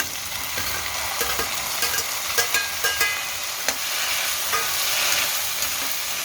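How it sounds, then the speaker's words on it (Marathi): Cowpea beans are stirred into sautéed onions in a pan. The loud, close frying crackles steadily while the spoon scrapes and taps in an irregular rhythm, and no one speaks. "आता याच्यामध्ये आपल्याला टाकायचं आहे शेंगा स्वच्छ धुवून घेतलेल्या"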